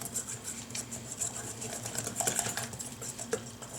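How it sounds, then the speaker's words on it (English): A small whisk beats egg into Swedish pancake batter in a bowl, giving a steady, close run of quick metallic clinks and scrapes against the bowl with no talking. "now we're just going to mix this stuff"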